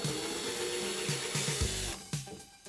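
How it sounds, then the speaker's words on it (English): Drilling out a small hole in the plastic casing of a Samsung TV: close, rough grinding bursts in an uneven rhythm, with one heavier stretch of cutting before the bit eases off. "I think I'm going to try drilling out this little hole here and making it a bit larger"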